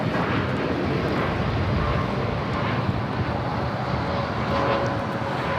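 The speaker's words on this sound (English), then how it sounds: "647 taking off to Mexico City on a 787-8 Dreamliner." An Aeromexico Boeing 787-8 Dreamliner takes off at LAX, a steady broadband jet roar heard from a distance, continuous and unchanging.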